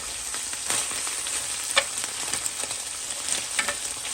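Slider burgers with onions fry under a lid in a pan, giving a constant close sizzle dotted with sharp crackles and pops.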